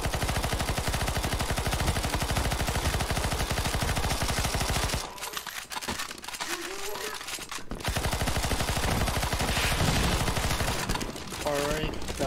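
Sustained rapid gunfire from zombie shooting in Counter-Strike: Global Offensive's Zombie Escape mod, loud and dense, pausing briefly midway before the volley resumes, with faint voices underneath.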